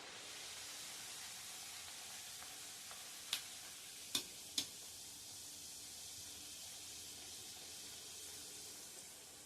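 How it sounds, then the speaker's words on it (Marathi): Puris deep-frying in hot oil, a steady soft hiss and fine sizzle heard close and fairly quiet, broken by three sharp clicks in quick succession partway through. "या पद्धतीने मी आता सगळ्या पुऱ्या तळून घेते।"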